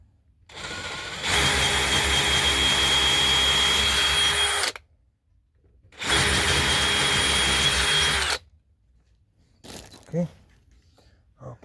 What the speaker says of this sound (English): Then I'll drill it now.